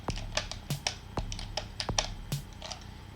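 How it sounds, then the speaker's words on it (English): A snare drum sample played from a hacked game controller, hit again and again in a quick, fairly regular beat alongside soft tapping clicks, at low volume with no voices. "The snare sound needs adjusted."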